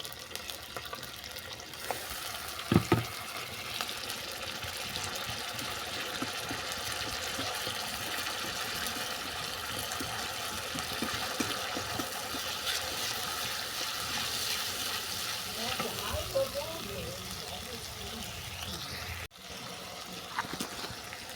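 Onion paste and grated tomato fry in a pan for an egg and kohlrabi curry, giving a continuous close, hissing sizzle with a few soft clinks and stirring knocks throughout.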